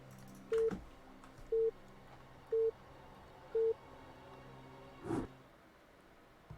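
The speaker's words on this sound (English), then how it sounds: "We hear my phone. Oh, is my phone notifications on?" A phone notification sounding as four short, evenly spaced tone beeps, then a brief softer blip, faint over quiet background hiss with no talk.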